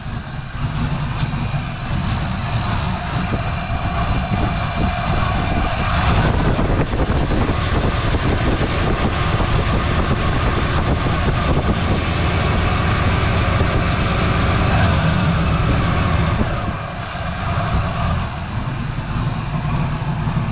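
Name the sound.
1975 Chevrolet El Camino engine running and warming up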